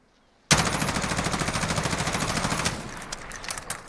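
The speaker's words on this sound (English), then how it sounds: "now that we're in game with our Mark 18 CQBR, we're going to go ahead and test the recoil patterns on this" Mark 18 CQBR rifle firing full auto in Call of Duty Modern Warfare, a rapid, even burst of shots lasting about two seconds, then a few trailing echoes.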